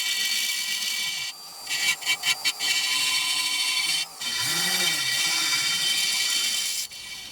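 Rock around the edge of a fossil Coccodus fish is ground smooth with a close, continuous abrasive rasping, broken by a quick series of short strokes and a few brief pauses, with no talking.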